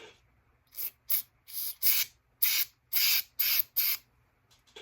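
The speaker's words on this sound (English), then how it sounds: "Spray brake or carb cleaner in there" Eight short aerosol bursts of brake cleaner, hissing and close, each about a quarter to half a second long, separated by brief quiet gaps, during repair of a Wacker BS600 jumping jack compactor.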